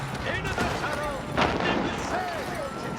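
Cannons firing during an Age of Empires 4 multiplayer battle, several booming shots with a strong burst near the middle, under battle noise and a voice talking throughout.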